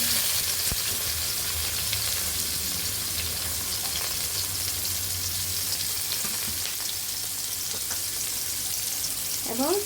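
Chopped onion frying with cumin seeds in hot oil while cooking a chicken curry with green jackfruit, giving a steady, close sizzling hiss with light stirring scrapes and no talking.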